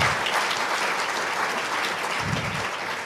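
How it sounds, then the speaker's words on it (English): Audience applause at an anniversary partnership gathering, a steady wash of many hands clapping at moderate level for the full few seconds. "if we could have another round of applause for Andrew, for Joy and for Sarah for that section"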